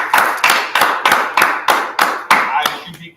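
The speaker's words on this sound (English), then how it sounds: "Clap it up." A group claps in unison at a history and archaeology class in Baltimore: eight loud, sharp, evenly spaced claps with a slowing, looser finish, close and alone.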